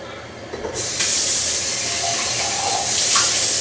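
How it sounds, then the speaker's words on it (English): Hot water gushes from a tap into a milk frothing pitcher beside a Breville Oracle espresso machine, a sudden loud steady rush that starts after a brief quieter moment and continues to the end. "I'm just having to wash out my pitcher as best as I can on the fly here"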